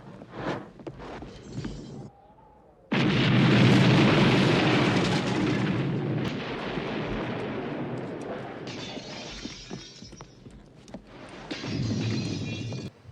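A ship is blown up in the 1982 film The Thing, heard as a loud, sustained roaring blast with crackling debris that swells after a brief lull and rumbles on for several seconds, with no speech over it.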